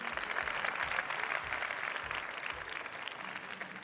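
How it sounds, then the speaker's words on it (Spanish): At the Dell Technologies Forum 2023 in Spain, a room of attendees claps for the first prize winner. It is a steady, moderately loud wash of applause lasting nearly four seconds. "Un aplauso para este primer ganador."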